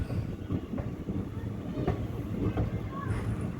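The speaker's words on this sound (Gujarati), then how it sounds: "આપણી ટ્રેન ધીરે ધીરે ચાલી રહી છે" A train departing Keshod railway station in Gujarat rolls along slowly with a steady low rumble and occasional rhythmic wheel clacks, close by and continuous.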